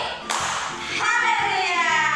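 Children in a kindergarten class clap their hands in a color game, a few sharp claps in a loose rhythm with voices faintly mixed in.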